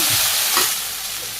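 Okra fries in hot oil in a wok with a loud, dense sizzle and a brief stirring scrape, close up and continuous, with no speech.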